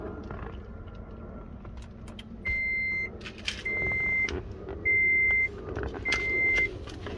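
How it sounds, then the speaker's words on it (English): A car being switched on gives four evenly spaced electronic chimes, each lasting about half a second, over a low rumble close by. "Now let's go ahead and turn on the vehicle"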